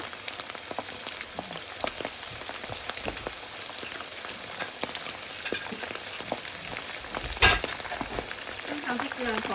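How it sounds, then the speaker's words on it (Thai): Battered shrimp fry in hot oil with a dense, steady sizzle and fine crackling, broken by one sharper pop near the end. "เราอันนี้เราทอดกุ้งไปก่อนนะต้องทอดให้มัน ให้น้ำให้น้ำมันแห้งนิดนึง"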